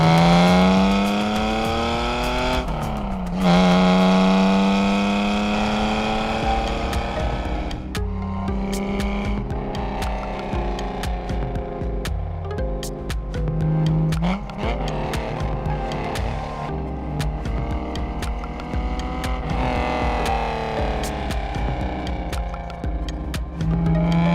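A Ford Capri is driven hard around a lap, its engine note rising and falling through repeated gear changes, loud and steady throughout with no voices.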